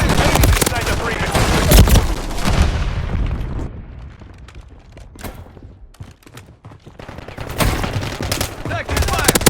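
Gunfire in the Call of Duty Modern Warfare III beta, with dense rapid bursts of automatic fire and booms, then a quieter stretch of scattered shots before heavy firing resumes, mixed with game voice callouts.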